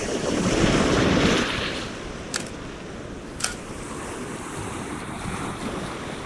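Ocean waves break on a coastline, a loud rush of surf with wind that eases after the first breaker into a steady, continuous wash.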